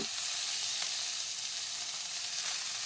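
Half a tomato sizzles in a hot pan while mint chutney is cooked, a steady, even frying hiss that continues without a break.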